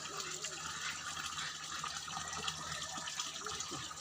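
Clean spring water being fetched on a mountain, a steady gush of running water pouring and filling continuously, with voices talking over it.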